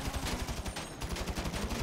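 Rapid, continuous automatic gunfire in the video game GTA 5, a dense stream of loud shots with a brief dip midway and no talking.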